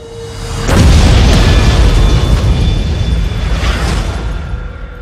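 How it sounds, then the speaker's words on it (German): A sudden loud boom erupts and rolls into a long, rumbling roar that slowly fades, with a second swell of debris noise partway through. "Eine Explosion erschütterte heute die Stadt."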